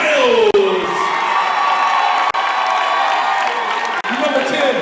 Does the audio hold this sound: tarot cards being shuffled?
no